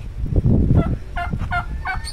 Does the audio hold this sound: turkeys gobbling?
yes